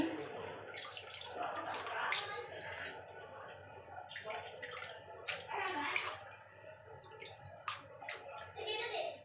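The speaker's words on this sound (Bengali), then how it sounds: "মাংসটাকে এখন ধুয়ে নিতেছি" Tap water runs steadily over raw meat being washed in a kitchen, splashing and dripping in uneven bursts, with faint voices in the background.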